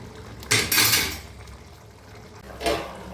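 Metal lid set onto a pot of Kerala country chicken curry, two clattering clanks close together, then another clank a moment later in a quiet kitchen.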